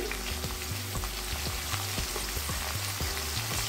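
Potatoes frying with ground spice paste in a pan, a close, steady sizzle with rhythmic scraping and stirring knocks roughly every half second, no voices.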